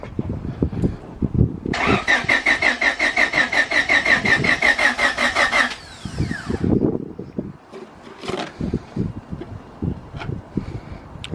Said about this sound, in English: I just want to crank it over to see if we got any oil pressure.